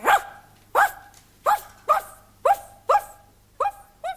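A person's voice imitates a dog barking, eight short sharp woofs at a steady pace, clear and close with quiet gaps between.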